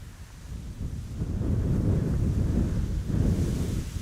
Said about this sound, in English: wind is picking up a little bit